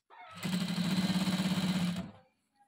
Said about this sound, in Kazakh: Міне осылай айландырып, тартып отырған күйі тігіп шығамыз